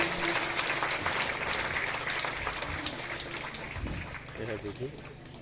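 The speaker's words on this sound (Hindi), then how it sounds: "तालियों से हम लोग स्वागत करेगा।" Congregation applause welcoming a speaker at a Pentecost celebration, a steady, fairly faint wash of clapping with voices under it and a voice rising near the end.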